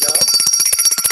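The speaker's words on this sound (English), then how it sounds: "that's a tiny bell." A tiny bell, the kind used at home to call cats for treats, rings in a quick run of bright repeated jingles, close and fairly loud, with no talking.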